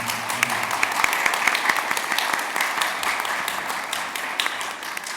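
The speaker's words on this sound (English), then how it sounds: "I think you owe it to yourselves a round of applause for a tremendous morning" Conference audience at a university fiscal challenge finals breaks into loud, sustained applause, dense clapping from many people close by that gradually thins toward the end.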